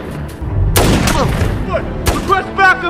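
Gunfire in a crime movie scene: a couple of sharp loud shots with echoing tails, mixed with shouting voices and scuffling action noise.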